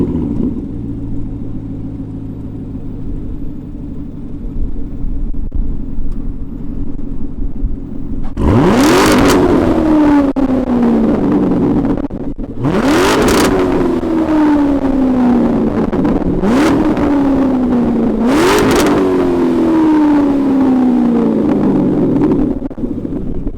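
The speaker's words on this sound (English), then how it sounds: "let's fire it up and see what the Stingray sounds like." A 2016 Corvette Stingray with a pushrod V8 idles with a steady low rumble, then is revved four times in sharp rising-and-falling blasts, close and loud with no talking.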